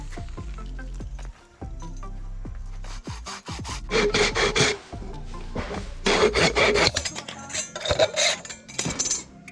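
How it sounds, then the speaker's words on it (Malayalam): The mouth end of a coconut shell is sawn off for a table lamp, heard as close, rasping back-and-forth saw strokes in uneven bursts with brief pauses between them. "3 മുഴുവൻ ചിരട്ടയുടെയും മുഖഭാഗം നമുക്ക് ഇതേപോലെ കട്ട് ചെയ്തെടുക്കണം"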